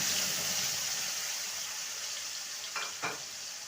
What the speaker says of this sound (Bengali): এবার বেটে রাখা মশলাটা দিয়ে দেবো